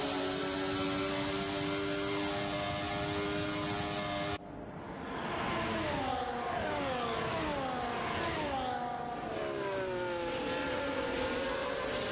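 Racing car engines in a racing video game, a sustained high whine of several engines with rising and falling pitch as cars accelerate and shift, a cut midway to another set of cars sweeping past.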